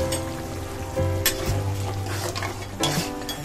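Prawns sautéing in a pan as they are stirred, with metal scraping and clinking against the pan over a soft sizzle, close and fairly loud.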